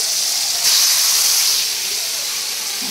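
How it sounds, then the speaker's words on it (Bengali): Onions tipped into hot oil give a loud, dense hiss that rises sharply as they hit the pan and then holds steady, close and continuous with no talking. "এখানে দাও পেঁয়াজগুলোকে দিয়ে দিলাম।"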